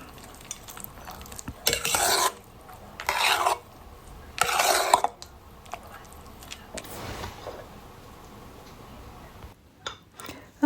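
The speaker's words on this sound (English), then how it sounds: "And then I'm adding the chocolate chips. And mix that all together." Chocolate chips being stirred into banana muffin batter, three distinct scraping stirs of a spoon against the bowl, fairly close and loud, followed by quieter handling.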